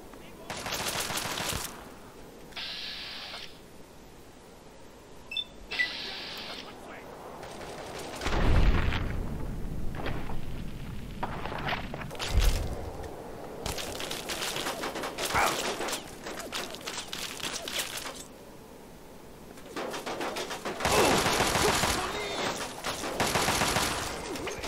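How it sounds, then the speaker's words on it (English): Grenade blasts and gunfire in the Fallout 3 video game: scattered deep booms and sharp bursts of automatic shots recur through the scene, loud and close, mixed with rattling clatter and pauses between volleys. "Let's play with grenades a bit."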